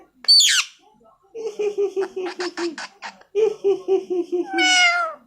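A talking pet parrot gives a shrill squawk, then a run of short, nasal meow-like calls imitating a cat in two quick bursts, and ends with a longer whistling cry, all close and clear.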